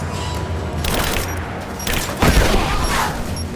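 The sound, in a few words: covering gunfire in the video game Rise of the Tomb Raider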